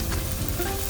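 Garlic sizzles in a hot pan during pad Thai preparation, a steady, soft crackling hiss that stays even and continuous throughout, with no voices.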